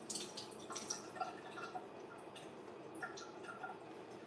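Water dripping and trickling as it drains out of a fresh turkey, a faint, continuous patter of small drips, close and quiet, with no talk.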